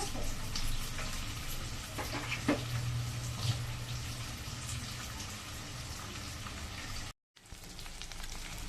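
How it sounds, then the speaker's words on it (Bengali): Onion and chili sizzle and fry steadily in a pan for a Bengali posto dish, a soft continuous crackle with a few small clinks of a utensil, heard close and alone. "এইটা ভাজা ভাজা হয়ে গেলে মানে লাল লাল হবে পেঁয়াজটা"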